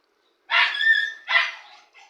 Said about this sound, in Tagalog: Ang ingay naman ng aking doggy-doggy.